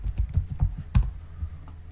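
Keys on a computer keyboard clack in a quick uneven run while a command is typed into AutoCAD, close and moderately loud with no talking.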